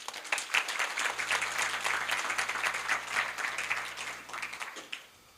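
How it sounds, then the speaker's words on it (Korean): Warm applause from an audience at a university startup showcase event, moderately loud and continuous before fading out near the end, with a faint low hum beneath. "따뜻한 박수 부탁드립니다"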